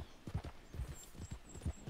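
Horse hooves clip-clopping at a steady walk while riding in Red Dead Redemption 2, soft and rhythmic at close range with no talk over them.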